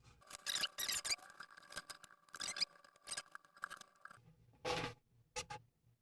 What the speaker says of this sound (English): And I'm going to be using my rotary cutter.